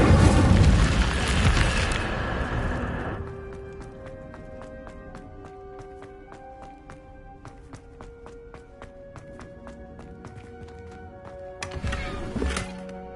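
A fire spell cast in the Hogwarts Legacy video game bursts loudly at the start, a roaring blast that fades into a sustained tonal musical bed, with a second short burst near the end.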